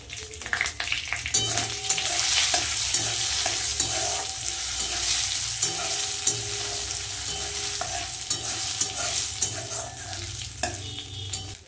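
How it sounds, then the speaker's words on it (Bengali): Whole cumin, radhuni, dried red chilli and bay leaf tempering crackling in hot oil for dal, a loud close sizzle with frequent sharp pops and spatula clinks against the pan, steady throughout. "তেজপাতা দিয়ে দেবো তেলের মধ্যে"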